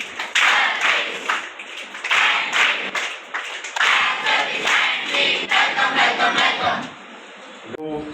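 An audience at a Red Cross training program for children claps loudly in welcome for a Red Cross official, a thick burst of many hands that swells in waves before dying away near the end.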